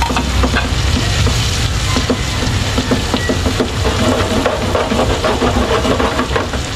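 Continuous loud sizzling and frying of buttered garlic mussels in a pan as plenty of chili is added and stirred in, with steady scraping stir strokes throughout and no talking.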